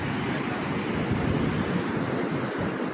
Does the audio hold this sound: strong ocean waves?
yes